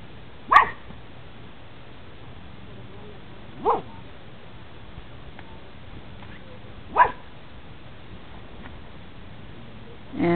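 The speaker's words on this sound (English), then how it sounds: "Do I hear a dog growling behind me?" Dogs in kennels give a few short, separate barks spaced a few seconds apart, moderately distant over a quiet outdoor background with low rumbling between them.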